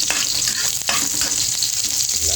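Chopped onions sauté in a little cooking oil in a pan, giving a dense, close crackling sizzle broken by scraping stirs, with no talking.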